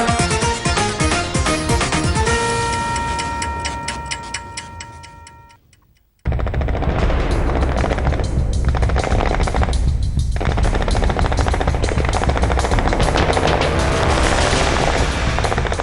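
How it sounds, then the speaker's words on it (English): Aggressive gunfire from across an international border near a village, heard as dense, loud, sustained bursts of rapid shots that follow a few seconds of fading tonal sound and a brief silence. "The villagers now living in fear for the last 4 days after aggressive firing from across the international border."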